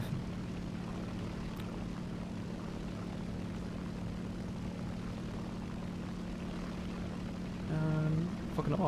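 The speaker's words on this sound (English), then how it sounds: "God, what a cool plane." A propeller airplane drones steadily overhead, its engine a constant even hum, swelling a little louder near the end as it passes close.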